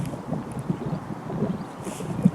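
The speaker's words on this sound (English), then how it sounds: "It's just so exposed and windy, cold." Gusty wind buffets the microphone at an exposed, cold fishing lake with a low, rumbling roar, rising and falling unevenly, with faint sounds of open water in the background.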